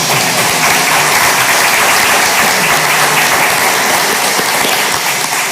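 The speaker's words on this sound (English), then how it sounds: "You can applaud." Loud, sustained applause from an audience at a school district board meeting honoring high school bands and mariachi students, a dense wash of clapping that stays steady from start to finish.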